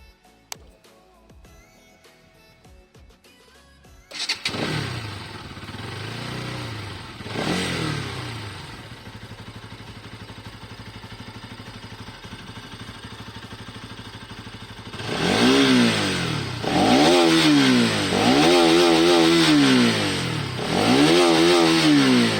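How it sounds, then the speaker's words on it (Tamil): A Bajaj Pulsar NS200 BS6 motorcycle with an underbelly exhaust cranks and fires up after a quiet moment, idles and blips, then revs hard in repeated rising and falling bursts, loud and close. "ஆனால் எக்ஸாஸ்ட் நோட் மட்டும் கொஞ்சம் டிஃப்ரெண்ட்டாக இருக்குது BS4லேருந்து BS6க்கு"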